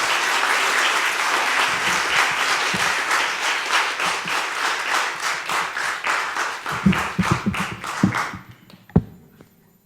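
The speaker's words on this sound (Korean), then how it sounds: "하나님께 영광의 박수 올려드립니다" A church congregation claps together through a Sunday morning service, steady dense applause that thins out and stops near the end, followed by a few scattered claps and one sharp knock.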